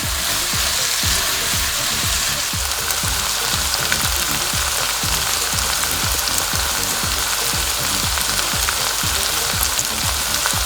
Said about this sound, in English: Allow the onion to cook, stirring occasionally.